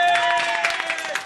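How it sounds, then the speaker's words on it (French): A regional election campaign team claps together indoors, a brief burst of close applause with scattered cheering voices mixed in. "ils peuvent s'applaudir"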